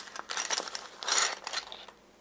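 Metal Allen keys jangle and clink inside an e-bike tool bag, a few close, bright rattling bursts over about two seconds, with no talking.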